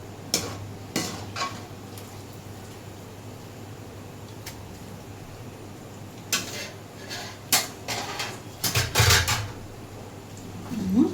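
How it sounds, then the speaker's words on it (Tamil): Onions sautéed in a pan for chicken dum biryani, with scattered metallic clinks and scrapes of a utensil stirring against the pan over a low steady hum, busier toward the end, with no talking. "இப்போ நம்ம வெங்காயம் வதக்கணும்ல, அதை போட்டுக்கலாம்."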